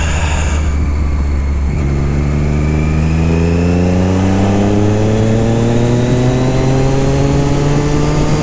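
A Triumph Daytona 675 R sport bike engine climbs steadily in pitch under hard throttle as it shifts up through the gears, loud, close and continuous, with wind noise and no talking.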